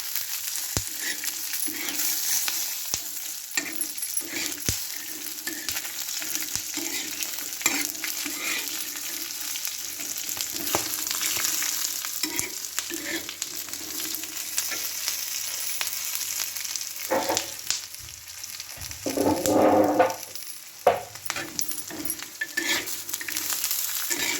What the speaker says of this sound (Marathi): आपण ह्याच्यामध्ये थोडंसं तेल ॲड करतोय, जेणेकरून आपल्या मिरच्या आणखी चांगल्या पद्धतीने भाजतील